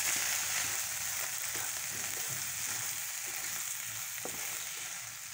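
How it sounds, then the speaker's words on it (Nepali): Frozen peas frying in cooked masala in a pan: a steady, loud hiss and crackle of sizzling carries on throughout, with faint stirring taps under it and no voices. "यसलाई पनि 5 मिनट जति फ्राई गर्छु।"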